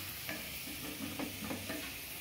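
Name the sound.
onion tempering (baghar) sizzling for dal salan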